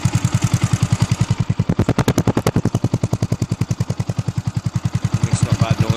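A Yamaha YZF 125 motorcycle engine idles steadily with no revs, a fast even putter of regular pulses, close and loud throughout.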